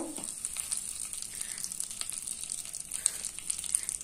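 Two bay leaves, each broken into four pieces, frying in hot oil in a wok for a pickle, giving a soft, steady sizzle with faint crackles close by.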